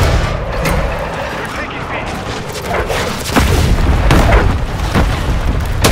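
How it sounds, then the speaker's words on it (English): Artillery fire mission in Call of Duty Modern Warfare 3 hardcore Control mode, a dense rumble of heavy booms and blasts rolling continuously, with voices talking over the barrage. "Target marked! Request fire mission!"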